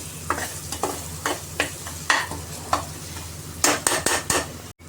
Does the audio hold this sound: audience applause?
no